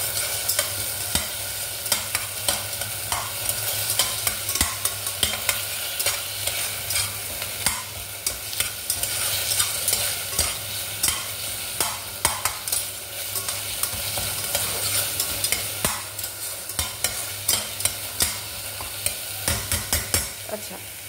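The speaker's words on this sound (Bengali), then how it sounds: "আরেকটু আর জাস্ট হয়তো 15-30 সেকেন্ড মতন আমরা এটাকে ফ্রাই করব" Yogurt mixture sizzling and frying in a pan, a continuous crackling hiss with frequent scraping stir strokes, close and fairly loud throughout with no voices.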